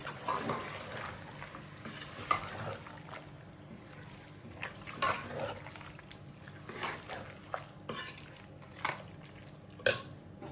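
Mutton stew with red chili powder stirred in a pot, soft intermittent scrapes and clinks of a spoon against metal over a faint background, with a sharper knock near the end.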